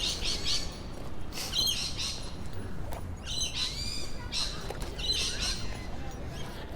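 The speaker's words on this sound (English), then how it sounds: "that squawking you can hear up in the trees is lorikeets" Lorikeets squawk and chatter high in city trees in Sydney, a run of shrill, scratchy calls in bursts that overlap and come and go at moderate distance over steady urban background hum.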